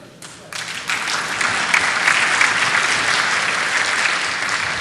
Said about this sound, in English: That applause you hear is kickoff of the final game over there.